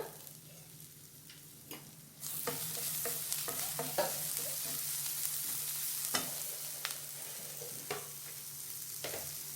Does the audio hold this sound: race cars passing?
no